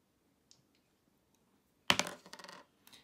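A single die clatters onto a tabletop during a Warhammer Kill Team game, a sharp burst of rattling taps that quickly settles, with a few faint clicks before and after in an otherwise quiet room.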